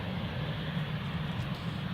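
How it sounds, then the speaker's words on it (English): Jet2 passenger airliner at Newcastle International Airport, a steady broadband engine roar with strong low rumble, heard from a moderate distance without talk. "It's a Jet2, just a Jet2."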